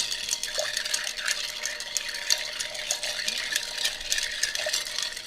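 Ice rattles and clinks steadily as a cocktail made with Angostura bitters is stirred in a glass, a close, continuous jingling swirl without talk.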